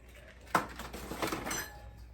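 A spoon or whisk clinks sharply against a bowl while eggs are mixed into Jamaican fruit cake batter, one bright knock followed by several softer scraping clinks at close range.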